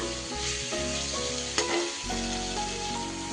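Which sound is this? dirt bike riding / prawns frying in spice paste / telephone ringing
prawns frying in spice paste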